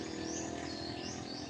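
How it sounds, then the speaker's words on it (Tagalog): Faint bird chirps and tweets repeat against a steady low background hum, distant and soft, with no voices. "Napansin ko ngayon yung tunog ng ibon."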